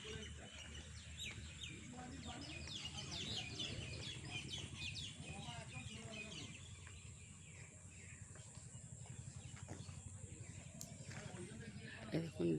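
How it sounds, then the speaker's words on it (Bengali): Many birds chirping and calling around open land with small fish-farming canals, a busy continuous chorus of overlapping twitters, with people talking faintly underneath. "প্রচুর পাখি এসছে"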